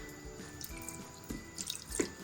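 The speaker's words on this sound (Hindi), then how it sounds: "ये चावलों का पानी इसमें डाल के और हम इसे हल्की आंच पर इसको पकाएंगे" Rice water being poured into a pan for a homemade skin-care cream, a soft, close, intermittent splashing and trickling with small drips and louder gushes near the end.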